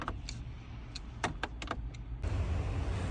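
A 2018 Ford Flex is started up close: several sharp clicks and switch ticks come first, then the engine catches and settles into a steady, low idle rumble.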